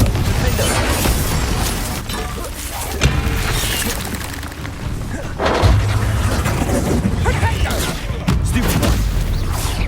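Confringo spell blasts in the Hogwarts Legacy game during a magic duel outside the castle: several booming bursts and pops strike amid ongoing combat noise, loud and close, with brief pauses between impacts.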